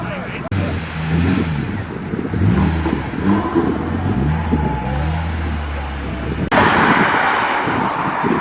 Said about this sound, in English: V12 E-Type Series 3 Roadster, manual gearbox as well